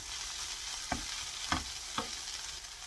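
Dried chwinamul greens stir-frying in perilla oil, a soft continuous sizzle broken by three scraping strokes of a spatula across the pan, with no talking.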